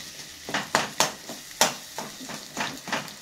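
Egg cut into pieces frying in a pan for Maggi noodles: a light sizzle under repeated scraping, tapping strokes of a spatula, about eight close, rhythmic stirs, with no talking.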